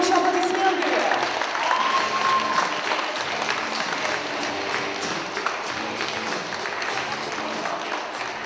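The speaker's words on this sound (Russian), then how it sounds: "Громче, громче аплодисменты!" Theatre audience applauding at a charity event, a steady wash of many hands clapping throughout, with a voice speaking over the start.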